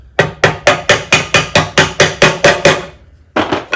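Eleven sharp hammer blows knock a part out of a vintage Delta Rockwell 1460 wood lathe in a steady rhythm, close and loud, followed by a brief pause and one more hit.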